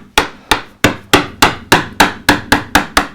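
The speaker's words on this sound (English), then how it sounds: "So I'll take a flattish gouge, and I'm going to start" Mallet striking a flattish gouge carving a wooden coastal relief, about ten crisp, evenly spaced knocks in a steady rhythm, close and loud with no talking.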